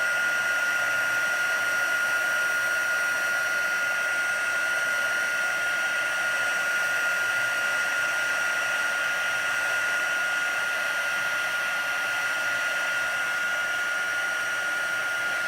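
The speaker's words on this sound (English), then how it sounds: "now I'm going to grab my heat tool" A heat tool blows continuously over embossed paper craft work, a steady, even whirring hiss with a constant high whine, sustained throughout without pauses.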